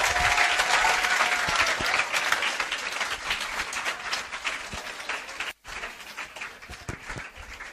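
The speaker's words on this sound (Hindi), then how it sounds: "जोरदार तालियों के साथ स्वागत करिए।" Audience at a CA and CS foundation rank holders' success event applauds in a hall, a loud dense wash of clapping that briefly cuts out near the end and resumes slightly quieter.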